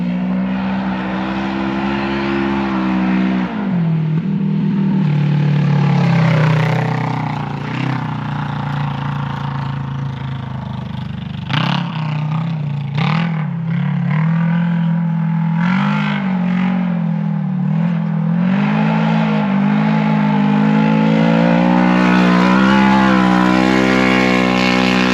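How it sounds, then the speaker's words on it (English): Polaris Pro XP off-roader with an RPM Sport muffler, engine droning loudly and close throughout with rising and falling revs, on trails and rocks. "That RPM pipe sounds so mean."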